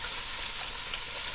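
Pieces of eddoe fry in a pot for a shrimp curry, giving a dense, steady sizzle of hot oil that holds evenly from start to finish, close and fairly loud, with no voices.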